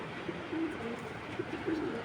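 Racing pigeons coo in a few soft, low, throaty bursts, repeated at intervals over a steady background hum.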